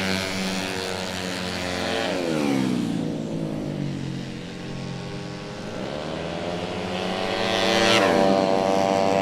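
A tuned 150cc automatic racing motorcycle screams past on a circuit during a Motoprix race, engine pitch climbing, dropping and climbing again as it accelerates, loud and close throughout.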